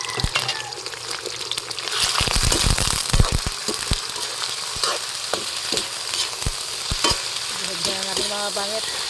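Meat for pancit bihon hits a hot pan with onion and garlic, a steady close sizzle broken by sharp scraping and stirring clatter, with a short whine near the end.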